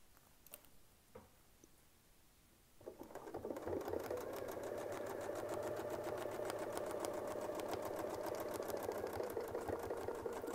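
A sewing machine starts up with a few clicks, then runs at a steady, fast mechanical hum-and-tick as it stitches a quilt, close and continuous to the end.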